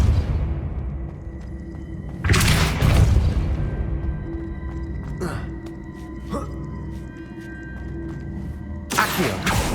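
Depulso spells cast in the Hogwarts Legacy video game, heard as two loud whooshing blasts with a low rumble between smaller clicks and pops, spread over about ten seconds of steady ambient hum.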